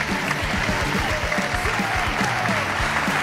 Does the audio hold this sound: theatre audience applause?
yes